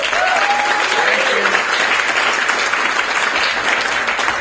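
An audience at a keynote and award presentation breaks into loud, dense applause, many hands clapping together in a steady wash, with a brief voice over the start.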